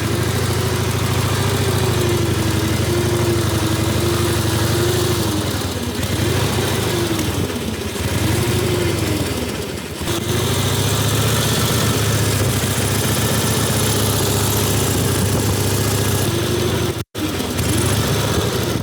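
A 1912 Harley-Davidson motorcycle engine idles through its original muffler, giving a steady, close, low rhythmic throb that wavers slightly in pace for the whole clip.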